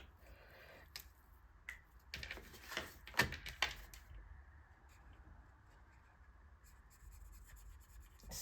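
A thick felt marker coloring on paper, heard as quiet, close scratchy strokes in short bursts, a few louder rubbing passes in the middle, no talk.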